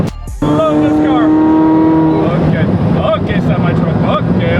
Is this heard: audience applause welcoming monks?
no